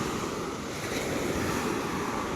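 Big, fast surf on Perupalem beach crashes in a steady, loud wash of broadband noise, with wind buffeting the microphone.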